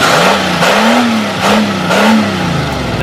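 A Chevy Nova or Oldsmobile Omega engine revs loudly and close by, rising and falling in several throttle blips over a rough, steady idle.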